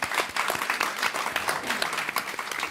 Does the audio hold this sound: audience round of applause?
yes